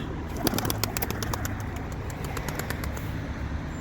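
Young domestic pigeons coo softly in a loft, faint low calls mixed with scattered sharp chirps and a brief flutter, quiet and close.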